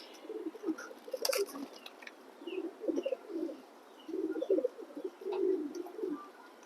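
Racer pigeons coo in repeated low, throaty bursts from several birds at close range, with faint chirps over a steady background.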